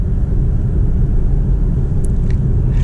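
BMW M8 Competition convertible with a V8 engine cruising in automatic mode, a steady low rumble of engine and road noise, loud and continuous with no talk.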